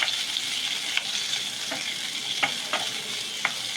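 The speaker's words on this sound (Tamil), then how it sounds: "அது கூட ரெண்டு பூண்டு இதை நாம் நல்லா வதக்கிக்கலாம்" Garlic cloves sautéing in a pan for a Madurai-style coconut-free chutney, a close, even sizzle with light periodic spatula taps and scrapes, no voices.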